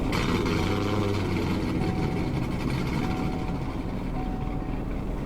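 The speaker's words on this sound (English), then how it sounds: "actually starting up the car is absolutely insane. So take a listen to this." A loud car in the Roblox game Greenville rumbles at startup, a deep continuous engine roar held steady at close range with no talk.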